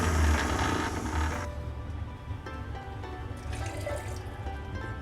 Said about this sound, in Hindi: थोड़ा सा पानी डाल लेते हैं।